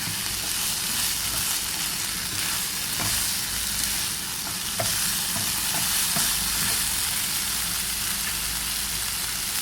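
Minced pork stir-fries in a hot pan for Thai basil pork, pad kaprao, with a loud continuous sizzle broken by occasional sharp clacks of the spatula stirring, close up and without talk.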